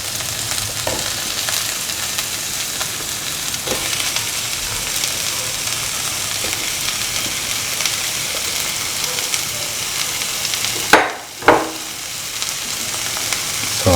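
Tomato pieces sautéing in a pan, a steady, close hiss of frying that runs throughout, with a couple of sharper stirring scrapes near the end.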